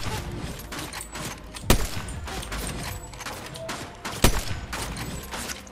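Gunfire in the Fortnite video game, a dense run of game shots with two sharper, louder bursts standing out, mixed with game sounds and faint talk.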